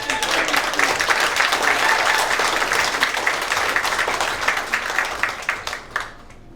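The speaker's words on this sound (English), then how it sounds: "if we could give him a round of applause for his efforts" A crowd at a Seminole Nation of Oklahoma Independence Day celebration gives steady, dense applause that holds for several seconds before thinning out and fading near the end.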